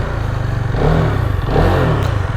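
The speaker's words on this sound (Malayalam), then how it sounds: "ജസ്റ്റ് നമ്മൾ വണ്ടിയുടെ എഞ്ചിൻ സ്റ്റാർട്ട് ചെയ്തു." A Hero Karizma XMR motorcycle engine, a 163 kg bike, runs close by after starting, with a loud, low, rhythmic throb and two brief rises in revs.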